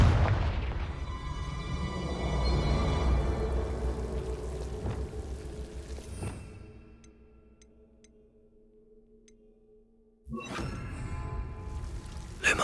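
A Confringo fire spell blasts in Hogwarts Legacy, a loud booming burst with whooshing debris that rumbles and fades into near silence before a second sharp impact near the end.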